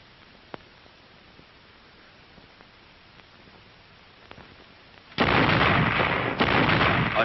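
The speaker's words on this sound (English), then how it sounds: "A synchronized barrage, with the entire regiment backing up Glamour Gal as she blistered the paint off her tube" A synchronized regimental artillery barrage from World War II field guns: a low, muffled rumble with scattered distant thuds, then a sudden loud sustained roar of massed firing near the end, with no speech.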